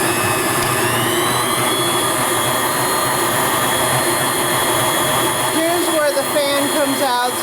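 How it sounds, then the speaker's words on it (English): Kichot 8.5 quart tilt-head stand mixer, 800 watts and six speeds, whirring steadily and loudly up close with a high motor whine that wavers near the end. "It's a 6-speed mixer."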